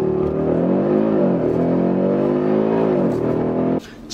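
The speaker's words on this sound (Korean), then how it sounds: "아주 시원시원한 엔진 사운드 들려주면서 아주 거침없이 내달립니다" An Audi RS 3, 407 hp and 1635 kg, accelerates hard to 100 km/h, its engine note climbing steadily and loudly in pitch through upshifts for nearly four seconds before cutting off abruptly.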